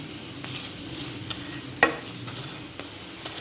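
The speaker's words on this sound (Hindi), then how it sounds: "अब इसको पलटा दिया है, इस तरह से इसको धीमी आंच में सेक ले, थोड़ा सा और घी लगाकर।" Aloo paratha frying in ghee on a low flame gives a faint, steady soft sizzle, with one sharp tap near the middle and a few quieter scrapes.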